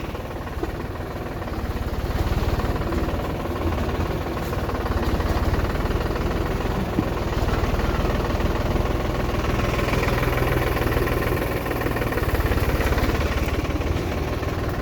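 A New Holland TD4 65 tractor engine runs with a steady, rumbling drone and a strong vibrating rattle, out in village fields, holding an even level throughout with no talking.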